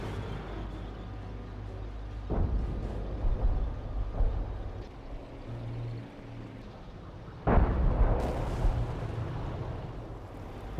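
Gunfire and explosive blasts from a Company of Heroes 1 battle, a few heavy booms at moderate distance with rumbling between, fairly quiet overall with one sharper burst later on.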